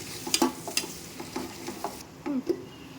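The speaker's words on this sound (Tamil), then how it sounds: "ஆனியனை போட்டதுக்கு அப்புறம் நம்ம நல்லா வதக்கிக்கணும்" Onions sautéing in ghee for mutton biryani, a soft sizzle broken by quick clanking stirs of a ladle against the pot, close and fairly quiet.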